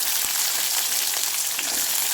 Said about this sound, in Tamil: அடுத்து நம்ம வெங்காயம் சேர்த்துக்குவோம்.